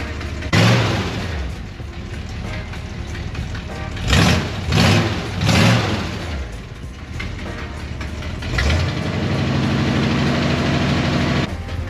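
Truck engine idling in park with a leaking exhaust manifold gasket, a steady low rumble throughout, broken by a few louder surges and a raised, harsher run near the end.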